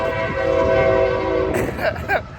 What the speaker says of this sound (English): As you can hear the train.